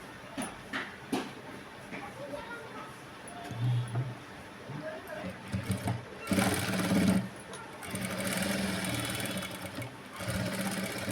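A sewing machine stitches tucks into a small blouse, running in short bursts of whirring that grow longer and steadier, with a person talking throughout.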